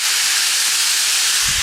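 Turkey and mushrooms sizzling in a hot pan, a steady loud hiss of frying with a brief low thump near the end.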